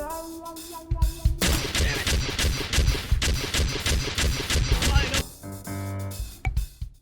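A Team Fortress 2 sentry turret in the VR shooter H3VR fires a dense, loud stream of rapid automatic shots for about four seconds, close by, with brief mechanical sounds before and after.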